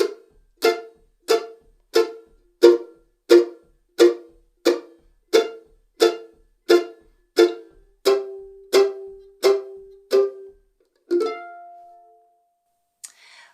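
Mandolin playing a basic chop, boom-chick backup rhythm: a steady train of short, percussive chord strikes alternating with plucked bass notes, ending with a few ringing notes, close and alone.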